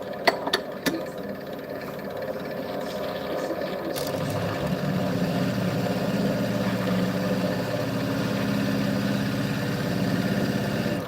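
Metal spinning lathe running at about 900 RPM, a steady mechanical hum and whir that grows fuller after a few light clicks at the start and then holds continuously.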